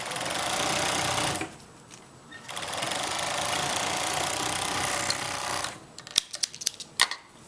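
A sewing machine stitching stretched elastic into leggings, running in bursts, a long steady whirr, a pause, another long run, then a string of short stop-start stitches, close by with no talking.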